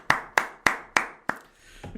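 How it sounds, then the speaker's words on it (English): Five sharp bare-handed claps from a podcast host, evenly spaced and close to the mic, then a softer shuffle at the end. "Hang on, I'm taking the gloves off for that one. You get a proper applause."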